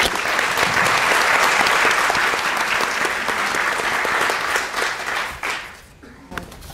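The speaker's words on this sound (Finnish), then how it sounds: "Sitten annetaan vielä Salolle aplodit." An audience applauds at a welfare reporting event for the town of Salo, a full, steady clapping crowd that thins out and fades near the end, with a few scattered claps trailing off.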